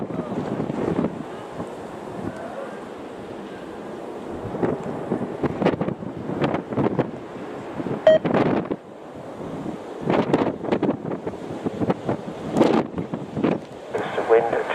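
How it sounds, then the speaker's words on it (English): Strong wind roaring across the microphone as an airplane lands on runway 23 right in blustery conditions, a steady rushing buffet with gusty surges throughout, with a voice talking briefly over it. "It's the wind"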